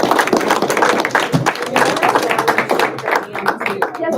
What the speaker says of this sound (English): I'd like to give you a clap.